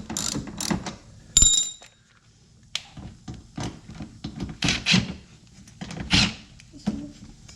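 A ratchet tightens the bottom bolt of a RallyArmor mudflap on a 2020 Subaru Crosstrek, giving a string of close, sharp clicking strokes in uneven bursts with short pauses between them.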